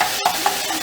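A spoon gives a quick stir through Jamaican gravy just after a teaspoon of vinegar goes in, with a short scrape over a steady sizzle from the pan.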